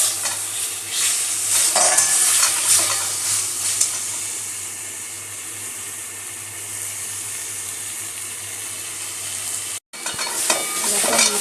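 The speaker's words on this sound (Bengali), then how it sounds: "দেখো ঝোলের মশলাটা কষা হচ্ছে।" Spiced curry gravy masala fries and sizzles in a pan while being stirred and scraped, a steady close hiss with scraping strokes throughout and a brief break near the end.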